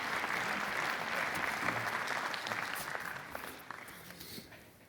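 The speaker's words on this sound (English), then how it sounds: "You can welcome them with an applause" Audience applause greets speakers coming on stage at an Internet Governance Forum conversation event, steady clapping that gradually fades toward the end.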